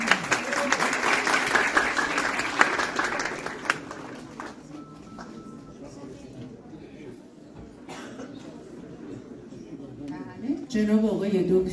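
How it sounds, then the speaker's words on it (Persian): An audience at a ceremony applauding, dense clapping for the first few seconds that thins out into scattered claps and room noise, with a voice speaking at the end. "تشویقشون بفرمایید"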